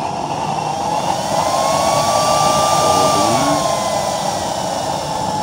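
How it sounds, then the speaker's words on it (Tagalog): A loud, steady 12-volt blower whine runs throughout, a continuous motor roar with a high tone that rises and falls slightly midway. "Gamitan lang natin itong 12 volts na maingay na blower natin."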